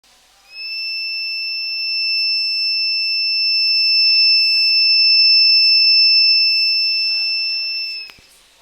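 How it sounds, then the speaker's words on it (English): An electronic buzzer in a K-12 STEM kit circuit sounds a loud, continuous high-pitched tone for about eight seconds, swelling slightly in loudness as a potentiometer is twisted, then cutting off abruptly. "the buzzer is supposed to ring and change its intensity."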